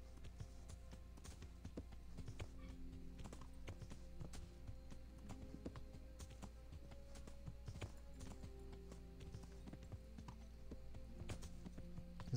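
Horse hooves clip-clop in the medieval video game Kingdom Come: Deliverance, a steady rapid rhythm of sharp knocks over a low continuous rumble, fairly quiet and alone.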